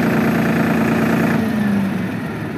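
A tractor engine idles steadily and loudly up close with a low droning hum, then winds down near the end as it is switched off, during a hydraulics demonstration in a field.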